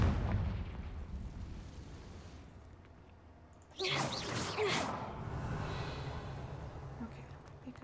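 A Confringo fire spell explodes in Hogwarts Legacy, a sudden loud burst with a crackling rush that then rumbles and fades into a low ambient roar.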